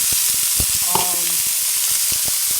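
Onion and celery frying in a skillet with olive oil for vegetable beef soup, a loud, close, steady sizzle with crackling pops and a brief tonal clink partway through.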